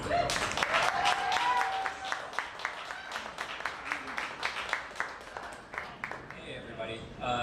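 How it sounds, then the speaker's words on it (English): An audience applauds after a trivia night introduction at a SpaceDrafts science talk, a steady spray of many hands clapping that tapers near the end, with some speech mixed in. "let's give a round of applause"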